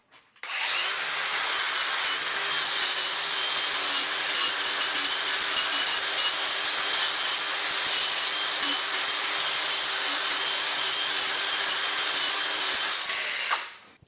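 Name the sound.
angle grinder with Porter Cable 60 grit flap disc grinding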